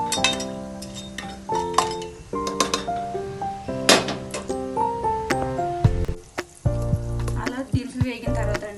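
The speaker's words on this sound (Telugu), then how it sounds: "షాజీరా అన్నీ కూడా మసాలాలు, చెక్క, యాలకులు అన్నీ ఇలా వేసుకుని మనం కొంచెం ఫ్రై చేసుకుందాం." Whole spices, including shahi jeera, cinnamon and cardamom, sizzle steadily in hot oil for a vegetable biryani, with close metal clinks and stirring scrapes throughout and tonal music running underneath.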